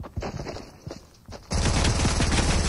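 Gunfire erupts in a Fortnite match after a few quiet footsteps, becoming a dense, loud rapid burst of shots that fills the final second or so.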